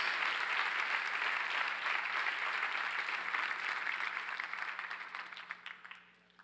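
A congregation at a church service claps loudly and steadily in praise, the dense applause holding strong before tapering off toward the end.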